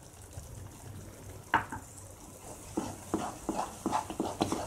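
Moong dal halwa being stirred in a pan, a series of soft scraping and light sizzling strokes, one sharper knock followed by a quicker run of close stirring taps, without speech.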